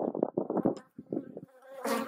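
Honey bees buzz around their hives during a spring honey harvest, a dense close hum broken by short pauses, with a brighter buzzing burst near the end.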